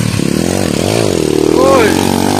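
Honda CB motorcycle engine revving hard on a road, a loud close rising and falling whine that climbs in pitch, with someone talking over it.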